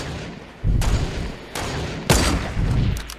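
Sniper rifle shots in Fortnite, several sharp loud cracks with booming tails at uneven intervals, each a sudden burst over quieter game background.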